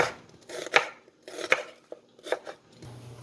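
Knife chopping onion, ginger, garlic and green chillies into long thin slivers on a board for chicken stew: a few distinct, close, crisp strikes in quick pairs, with short pauses between, no voices.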